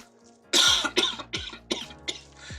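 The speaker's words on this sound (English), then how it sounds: "As he coughs into his shoulder." A run of five or six harsh, close coughs in quick succession, each burst dropping off before the next.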